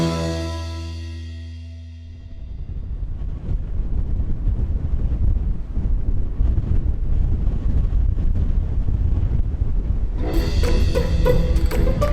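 Strong wind buffets the microphone in a constant, loud low roar, with a brighter gusty hiss rising near the end, in windmill country in La Mancha, Spain.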